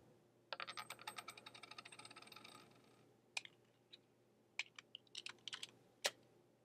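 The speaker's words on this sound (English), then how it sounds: "It's a 50 Cent piece rolling on the table and I think a Glock being cocked" A 50-cent coin rolls and rattles across a table for a couple of seconds, followed by scattered sharp mechanical clicks of a Glock pistol being cocked, all quiet and without talk.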